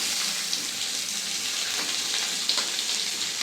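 Onions frying in a little mustard oil in a pan, a steady broadband sizzle and crackle that holds evenly throughout, with a few small pops and no talking.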